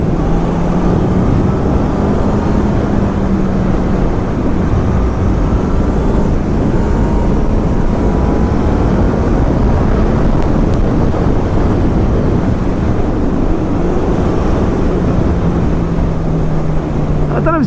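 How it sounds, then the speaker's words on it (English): A 2019 Honda CB1000R Plus fitted with a Termignoni GP2R exhaust rides in third gear, its steady engine drone and rising-falling tone constant throughout and heavily mixed with wind roar. "We'll drop it down a few gears into 3rd, but it is definitely louder."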